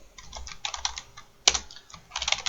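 Fingers type on a computer keyboard, with quick close bursts of key clicks, one sharper hard keystroke midway and a fresh flurry at the end, with no voices.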